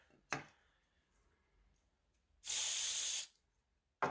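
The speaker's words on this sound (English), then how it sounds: "you take a Q-tip and you spray it with electronic cleaner" Electronic cleaner spray shot onto a Q-tip during fencing foil cleaning: a sharp click, a pause, then a single loud close hiss of aerosol lasting under a second, ending with another click.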